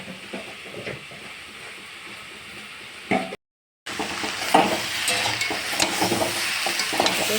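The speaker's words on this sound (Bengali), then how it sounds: "এসবটা প্রায় ভাজা ভাজা হয়ে গেছে" Jackfruit masala with onion and tomato paste sizzles in a pan while a spoon stirs and scrapes it; after a short silent gap the frying returns louder and busier.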